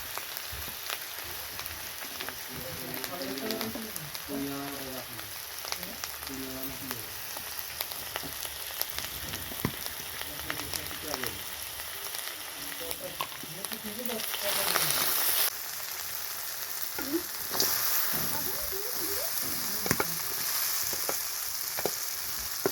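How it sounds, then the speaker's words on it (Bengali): Potatoes and mushrooms sizzle in a pan with chili powder, coriander and cumin, a soft steady crackle broken by scraping stirs from a spatula. Someone talks quietly now and then. "এখন মাশরুমটাও দিয়ে দিয়েছি, ওরাও ভালোভাবে কষিয়ে নেব।"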